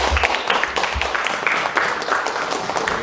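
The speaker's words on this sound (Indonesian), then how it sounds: "Tepuk tangan dulu kepada Naila." Participants at an academic supervision session applaud tutor Naila, a short burst of mixed group clapping with uneven louder claps and some low background noise, fairly close and continuous.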